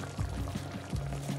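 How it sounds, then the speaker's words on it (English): Water poured into a cooking pot of spinach and potato curry, a steady splashing trickle with a few gurgling bursts, close and fairly quiet. "So now I will add 1 cup of water and let it cook for around half an hour."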